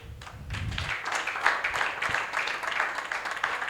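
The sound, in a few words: audience clapping to welcome a speaker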